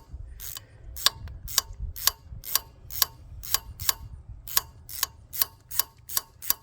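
A spark plug is ratcheted into an engine one at a time, giving a steady series of sharp clicks at roughly half-second intervals over a low background rumble.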